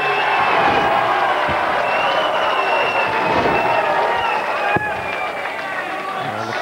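A loud, sustained crowd roar at a Premier League darts match with Taylor versus Dudbridge, cheering steadily throughout with whistles and shouts, briefly punctuated by a sharp knock, as commentators speak over it.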